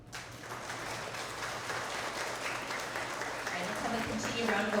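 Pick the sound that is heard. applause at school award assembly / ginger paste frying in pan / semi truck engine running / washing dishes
applause at school award assembly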